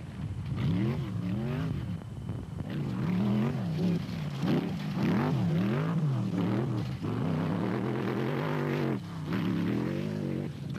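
A 3.5 litre rally car, an Atlas Copco entry crewed by Cox and Henny ter Steger at the 2007 Nissan Dealer 400, revs hard and close, its engine note rising and falling repeatedly through gear changes in a loud, continuous snarl.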